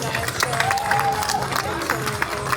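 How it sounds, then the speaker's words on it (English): Audience at the Dive high-dive show at Holiday World in Santa Claus, Indiana, applauds and cheers the cast: a steady wash of clapping and crowd noise with an amplified announcer's voice running over it. "a round of applause for the amazing cast of Dive"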